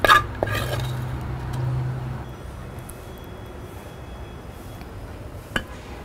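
A metal cooking pot is shifted aside on a kitchen stove while preparing a tempering, giving a short scraping clatter of metal at the very start, then near silence and one faint clink later.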